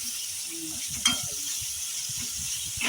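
Onions sauté in a pan for a fish curry, a soft continuous sizzle with a few sharp stirring scrapes and clatters, close and fairly quiet.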